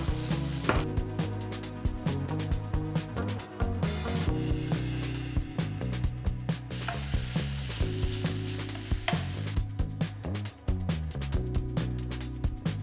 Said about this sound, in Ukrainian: це все гарно-гарно обсмажую на олії